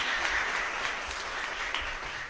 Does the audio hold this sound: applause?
yes